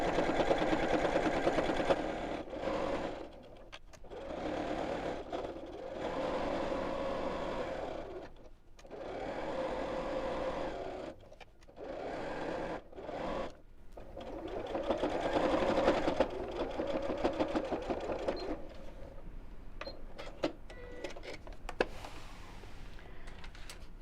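A sewing machine stitches close to the edge of a fabric wallet, humming steadily and fairly quietly for most of the stretch, with brief stops and restarts along the way.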